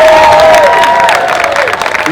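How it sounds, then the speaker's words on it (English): A fan panel crowd breaking into loud applause and cheering at high energy, a dense wash of clapping and voices close and sustained for a couple of seconds. "can we start the applause right now to high energy?"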